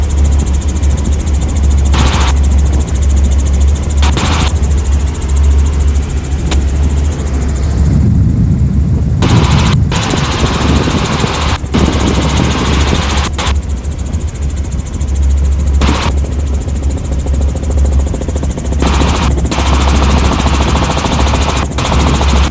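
A helicopter flies over Cocoa Beach on a tour, its engine and rotor making a steady, loud, close drone throughout, with brief dips in the noise.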